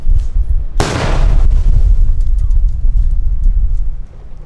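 A Claymore mine detonates at a Vietnam War reenactment, scattering ball bearings: a sudden, loud, close blast followed by several seconds of heavy rumbling noise that fades near the end.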